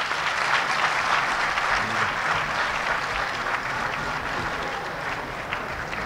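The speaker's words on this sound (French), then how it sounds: "On applaudit très fort, s'il vous plaît." An audience at a meeting with the Prime Minister applauds steadily, a dense and even wash of clapping throughout with no voices standing out.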